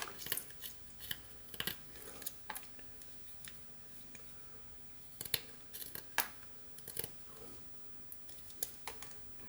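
A pocket knife whittles a tiki face into a piece of found wood, giving short, scattered cutting and scraping strokes at close range in uneven bursts over a quiet background, with no talking.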